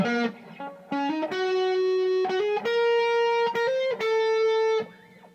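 An electric guitar plays a clean, sustained melodic line through a 1982 Peavey Bandit amp with reverb, notes ringing close and full before fading out.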